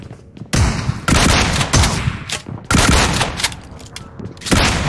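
Heavy gunfire in the mobile battle royale game PUBG Mobile: repeated loud bursts of automatic fire and single shots close by, spaced irregularly across several seconds.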